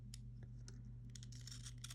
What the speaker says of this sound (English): These are my little decal scissors.